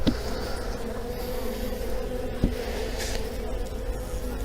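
Honey bees from a weak colony buzz steadily around the hive being prepared for winter, a continuous, fairly faint drone with a few louder passes close by.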